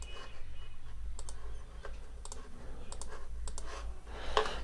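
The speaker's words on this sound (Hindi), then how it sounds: "यहाँ पे थोड़ा सा टाइपिंग में मुझे मसला हो रहा है" Rapid keyboard typing on a computer while entering Urdu text in a video editor, with steady close clicks and a few louder keystrokes, alone without speech.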